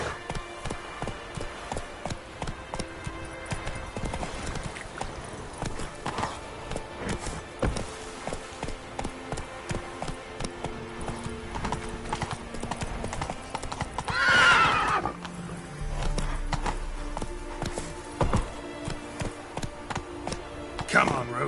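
Horse hooves clip-clop in a steady galloping rhythm through The Witcher 3 video game, loud and close, with a sharp neigh partway through; a voice speaks briefly over the hoofbeats.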